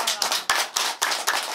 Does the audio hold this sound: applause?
yes